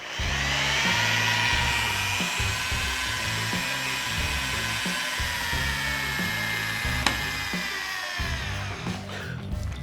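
A cordless, higher-torque drill drives wood screws with a steady, near whirring whine that holds for several seconds over background music, broken by a single sharp click toward the end.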